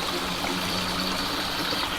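Rising water floods a sinking ship in the Roblox Titanic game, a steady, loud rushing and trickling wash that holds constant without pause.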